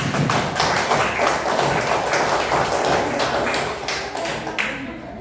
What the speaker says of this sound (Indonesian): Tepuk tangan buat Almira.